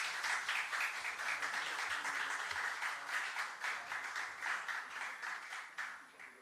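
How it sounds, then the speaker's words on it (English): Sustained applause from a sizable crowd at a UN signing ceremony, dense steady clapping throughout with a slight tapering near the end. "a round of applause, please, for this momentous occasion"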